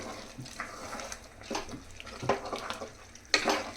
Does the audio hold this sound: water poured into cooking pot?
yes